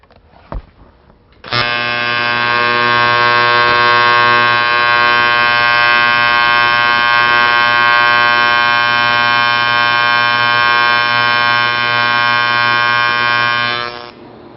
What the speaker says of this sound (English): I'm going to make a short weld with everything being done properly